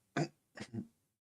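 A person imitates a stifled cough: a short muffled burst, then a quick double burst, close and fairly quiet.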